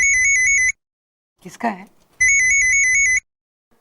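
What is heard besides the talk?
mobile phone ringing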